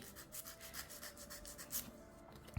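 Nail file scraping the side of a gel C-curve nail tip in short, soft rhythmic rubbing strokes, faint and close, with no talk.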